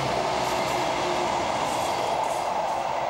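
In a driving video game, a train rolls past close by, a loud continuous rumble of rail wagons with a faint high squeal and no talk over it.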